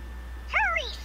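A short two-note electronic chime rings once from the gummi phone in the video game Kingdom Hearts 3, its bright sweeping tones rising and falling over a quiet game-audio backdrop.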